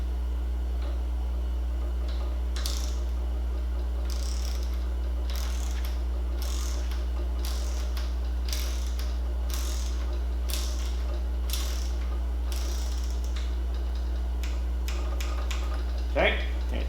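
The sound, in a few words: torquing nuts on a Fox 36 fork lower leg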